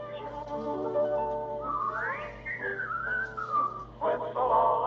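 A melodic whistled tune with sliding pitches and held notes, over a soft steady hum, fairly close and clear.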